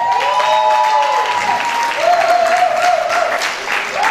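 Audience applause for a singer, a 32-year-old Sicilian and past Canta Italia winner, on stage at a song contest in Stuttgart; steady full clapping fills the hall while a host's voice rises above it.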